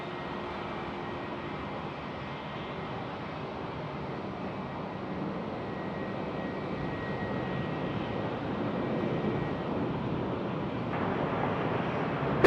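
An airliner on approach to land at Sydney Airport gives a steady, broad engine roar that holds for the whole stretch and swells slightly toward the end, fairly loud with no talking over it.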